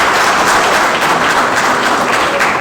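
Applause from an audience at a Zumunta Association community benevolent event in Abuja, Nigeria: a steady, loud wash of clapping that stays dense and even throughout, with no talk over it.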